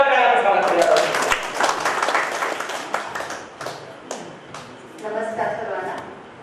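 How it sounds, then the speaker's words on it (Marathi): Audience applause welcoming a woman invited to address senior citizens at an environment day talk on organic farming, clapping spread through the clip and fading out, with speech over and after it. "ताईला विनंती करतो की आमच्या ज्येष्ठ नागरिकांसाठी संवाद साधायला जोरदार टाळ्या स्वागत केलं जातं"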